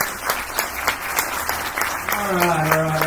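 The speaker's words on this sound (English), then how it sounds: "Round of applause." An audience claps at a Warriors of AniKituhwa performance, a moderate burst of scattered applause with some sharper individual claps, fading as a voice begins talking near the end.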